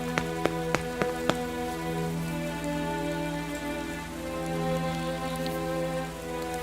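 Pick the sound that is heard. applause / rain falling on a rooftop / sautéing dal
rain falling on a rooftop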